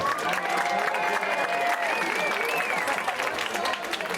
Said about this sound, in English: Let's give a round of applause for Brooke Huddleston.